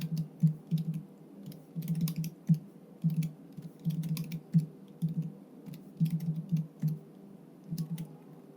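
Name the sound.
typing on a computer keyboard in Excel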